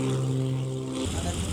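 A Beechcraft business aircraft's propeller engine drones with a steady harmonic hum at an air show in Belvès, the tone shifting and rougher after a second, with talk over it.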